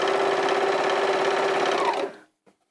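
A sewing machine runs steadily while stitching a narrow hem on fabric, a continuous close whir holding for about two seconds before stopping, followed by a faint click.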